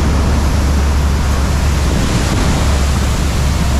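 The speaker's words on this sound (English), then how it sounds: "Waves are getting a bit rough, so we're leaving the beach." Rough ocean surf pounds Kelingking Beach on Nusa Penida, a loud, dense, continuous roar of breaking waves and churning water close by with no pause and no voices.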